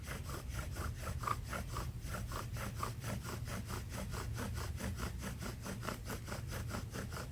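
A wooden bow drill spindle grinds into a wooden fireboard to build ember dust, giving a steady rhythmic back-and-forth rasping of about three strokes per second, close and uninterrupted.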